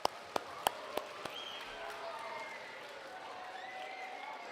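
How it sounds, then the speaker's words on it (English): Students at an elementary school awards ceremony give a short burst of applause, a few sharp claps up front followed by a faint, fading patter of clapping from the group. "Give yourselves a round of applause."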